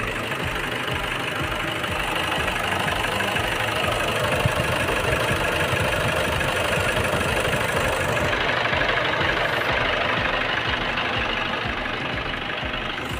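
The hot diesel engine of a Toyota Hilux Tiger pickup idles close by, a constant rumbling clatter with a steady knock that never changes pace.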